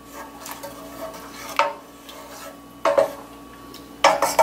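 A utensil stirs cheese in a pot for fondue, giving soft scraping strokes with three sharper clinks and knocks against the pot, fairly close and quiet between them.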